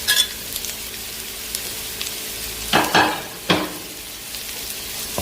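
Vegetables frying with ginger and garlic in a hot pan for egg fried rice, giving a steady close sizzle broken by a couple of short stirring scrapes, with no talking.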